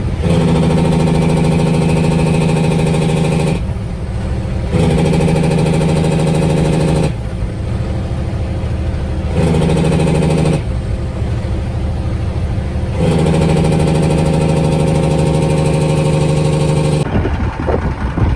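An International 9370 truck's engine drones loud and close while it plows snow on I-68, a steady heavy hum that shifts pitch in repeated blocks as the load changes.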